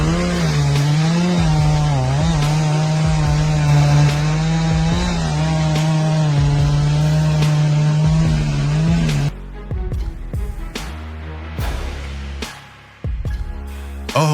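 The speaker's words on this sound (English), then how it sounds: "the hydraulic system of the log grapple crane delivers impressive clamping force, ensuring a secure grip on the log with remarkable efficiency" A hydraulic log grapple crane handles logs with a steady, loud engine drone for about nine seconds, then the roar drops away and heavy knocks and clunks of logs being gripped and moved take over.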